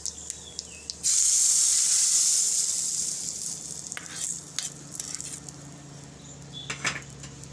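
Hot oil tempering with cumin seeds is poured into karamda chutney and bursts into a loud, bright sizzle. The hiss fades over several seconds, with a few clinks and crackles near the end.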